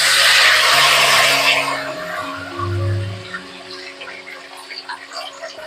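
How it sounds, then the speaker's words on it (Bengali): Hot water poured into a pan of frying mustard and poppy seed paste for a fish curry gives a loud rushing hiss that fades over a few seconds into a softer bubbling simmer. "এবার গরম জল দিয়ে দেব।"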